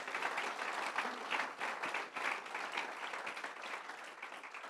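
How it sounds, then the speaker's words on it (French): Church congregation applauding and acclaiming God, a dense, sustained wash of clapping with slight swells, steady and fairly loud throughout, with no voices above it. "Est-ce que je pourrais avoir une acclamation dans ce lieu pour le roi des rois"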